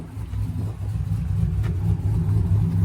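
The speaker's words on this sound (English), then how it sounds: "I'll rev it one time for you guys." A cammed 5.7 Hemi Ram truck engine runs with a loud, lumpy low rumble that swells slightly as it is revved once, close by with no talking.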